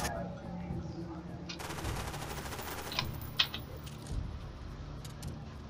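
A Scorpion submachine gun firing in Garry's Mod, a short rapid burst at moderate distance followed by a few sharp clicks and a metallic clatter, quiet overall with faint background noise.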